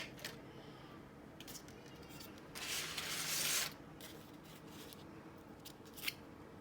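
Scissors cut paper for a marigold paper flower, with soft close snips and rustling, a longer sliding cut in the middle and a few short crisp snips, faint overall in a quiet room.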